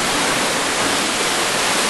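Waterfall over limestone rock at Williamsport Falls, heard from up close beneath or behind the falling water: a loud, steady, unbroken rush of spray with no voices.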